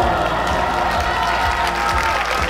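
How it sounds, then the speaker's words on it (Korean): Students at a performing arts high school applauding and cheering for their teachers, a brief, loud, dense burst of clapping and crowd noise that holds steady throughout. "이 자리를 만들어준 우리 선생님들 큰 박수 한번 해볼까요?"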